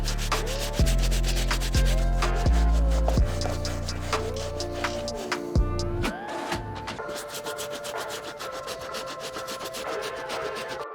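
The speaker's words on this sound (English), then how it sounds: "grab our soft bristle brush, dunk it in our solution, and start hammering these uppers" Brisk, repeated scrubbing strokes of a soft bristle brush rasp against a sneaker's uppers, close up and rhythmic, with a few low knocks early on.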